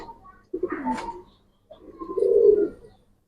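Two short bouts of throaty pigeon cooing, close and moderately loud, the second longer and fuller, separated by a brief silence.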